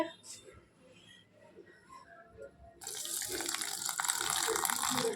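Water is poured into a puffed rice batter for savory kachori, a quiet trickle giving way to a louder, steady splashing pour over the last half of the clip.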